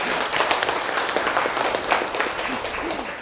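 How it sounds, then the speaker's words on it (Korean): An audience at a lecture show claps together in a moderate, steady round of applause lasting a few seconds, fairly close, with no clear speech over it. "멋있으면 박수 한번 쳐보세요."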